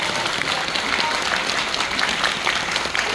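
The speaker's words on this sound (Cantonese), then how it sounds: "要俾啲掌聲佢哋，因為佢哋同我哋一齊做咗電視嘅" A theatre audience applauds at the final curtain call of the stage show 歡樂在今宵2025, with dense, steady clapping from a large crowd that holds evenly for the whole stretch.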